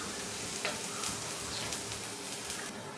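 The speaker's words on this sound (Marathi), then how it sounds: "तुपावर जरा बीट आहे बारीक केलेला तो जरा परतून घ्यायचं" Finely chopped beetroot frying in a spoonful of hot ghee in a kadhai, giving a continuous even hiss with occasional soft stirring scrapes, close and unbroken throughout.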